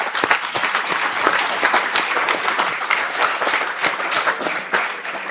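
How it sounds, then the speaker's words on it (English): Conference audience at a Doctor's Day medical education event applauds the panelists, a steady, moderately loud wash of clapping from a seated crowd lasting several seconds. "A round of applause for the panelists,"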